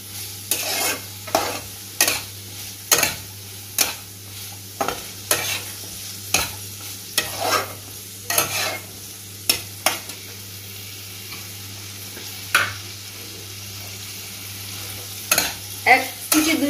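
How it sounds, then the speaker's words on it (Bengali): Diced potatoes fry with chicken and spices in a pan under a steady low sizzle, while a utensil scrapes and knocks against the pan in repeated stirring strokes at an irregular rhythm. "আলু যেটা কেটে রেখেছি সেটা এই মাংস এবং মশলার সাথে কিছু সময় ভেজে নেব"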